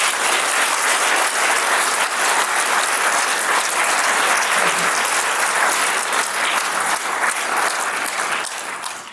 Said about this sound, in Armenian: Թույլ տվեք բոլորս միասին շնորհավորենք ծափարելով նրան